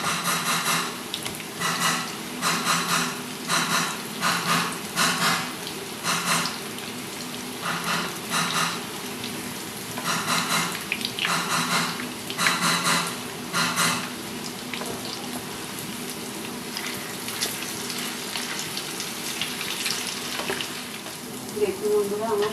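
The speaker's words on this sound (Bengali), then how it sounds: "এইভাবে সবগুলোকে ভেজে নিতে হবে।" Rolls deep-frying in hot oil, a continuous sizzle broken by rhythmic surges of louder crackling bubbles, near and fairly loud, with no talking.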